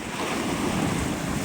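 Wind storm over the ocean: steady loud roar of gusting wind and surging waves, with heavy wind buffeting on the microphone and no voices.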